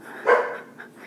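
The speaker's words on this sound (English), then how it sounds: "sorry about the barking." Dogs barking in a single short burst indoors, a loud bark near the start followed by fainter yips, with no talking over it.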